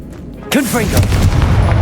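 The Confringo blasting spell in Hogwarts Legacy erupts in one sharp, loud boom, with a brief whooshing cast just before it and a rumbling tail afterward.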